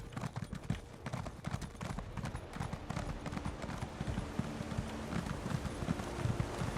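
Steady, rapid horse hoofbeats clip-clop on a hard surface throughout in a video game, with a low rumbling background and no talking.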